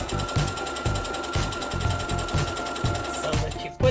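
A domestic sewing machine stitches a garment pocket in quick rhythmic bursts of mechanical thumping, close and fairly loud, with a faint steady whine running underneath.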